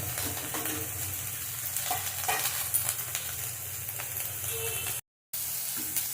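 Kalai greens, eggplant and beans sizzle in oil in a cooking pot while being stirred, with scraping strokes over a continuous frying hiss that briefly cuts out near the end.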